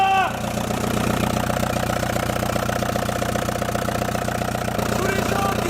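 A tuned 1.9 TDI diesel engine idles just after starting, with a loud, close, steady rough clatter and low rumble throughout, and a voice speaking briefly at the start.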